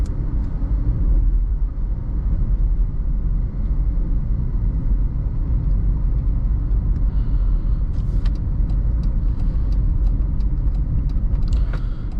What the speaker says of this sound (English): Right now, I'm really just barely hitting the accelerator, and I'm able to get up this hill pretty easily.